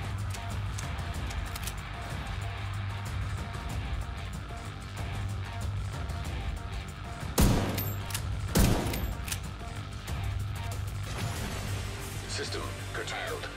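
Gunfire from a rogue sniper turret in the video game The Division 2, with sharp loud shots near the middle over a dense, continuous game soundscape and steady background hum.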